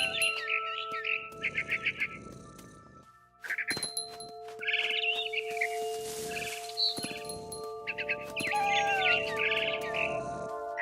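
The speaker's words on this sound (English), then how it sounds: "Then I heard chirping outside my window. It was a barn swallow going back to her nest." A barn swallow chirps in the video game What Remains of Edith Finch. Bursts of quick, bright twittering come in clusters, set among soft chime-like tones and sustained musical notes.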